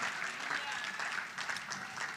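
A conference congregation claps hands in praise, sustained crowd clapping throughout with a preacher's voice speaking over it.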